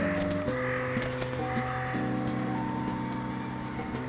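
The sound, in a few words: crows cawing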